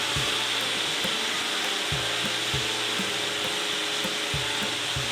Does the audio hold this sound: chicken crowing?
no